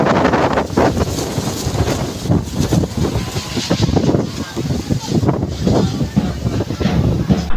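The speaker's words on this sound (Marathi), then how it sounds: "लग्नातील मंडप वादळी वाऱ्याने उडाला" Strong storm wind buffets the microphone at an outdoor village wedding in Dongarewadi, Mukhed taluka, Nanded, roaring in loud uneven gusts, with people's voices mixed in under the blasts.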